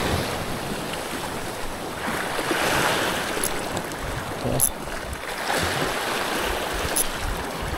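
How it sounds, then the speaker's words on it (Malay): Ocean waves surge and wash steadily at a windy fishing spot, a continuous broad roar of surf and wind with a few louder splashes. "Alun memang tak berhenti-berhenti ya."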